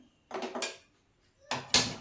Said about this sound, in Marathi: इथे कढई ठेवते मी